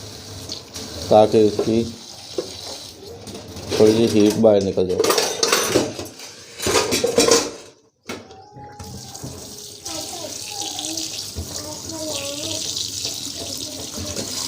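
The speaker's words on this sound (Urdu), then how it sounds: "ان کے اوپر اس طرح ہم سادہ ٹھنڈا پانی ڈال دیں گے" Cold tap water poured over boiled moringa pods in a basket, splashing and running continuously, with pods clattering and rubbed against metal dishes as they are washed; someone talks over the first half.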